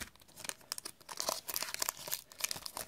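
A Yu-Gi-Oh Lost Millennium 1st Edition booster pack being ripped open, its foil wrapper crinkling and tearing in dense crackly bursts, close and soft, with no voice.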